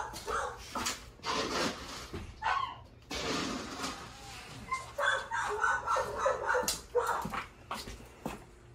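Several dogs bark, yelp and whine excitedly as dog food is on its way, loud overlapping outbursts in bursts throughout, with some chicken-like squawks mixed in.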